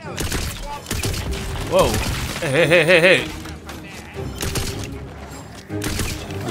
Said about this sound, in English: It's a fully automatic fucking crossbow pistol.